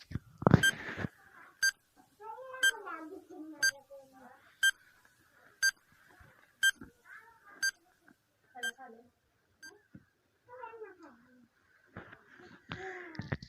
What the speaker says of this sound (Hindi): इसके लिए टाइमर शुरू होता है अब।